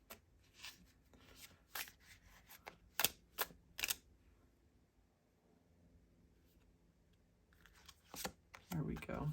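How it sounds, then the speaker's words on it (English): Tarot cards are shuffled in short bursts of crisp riffling and slapping, several quick flurries separated by quieter pauses, faint and close. "I think I'm going to shuffle one more time."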